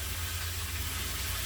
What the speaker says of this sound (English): do you guys hear that sizzle?